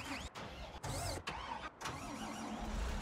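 A Fendt 1000 tractor engine starts up in Farming Simulator 2019, then settles into a steady, loud mid-pitched idle with a low rumble, heard close with no talking.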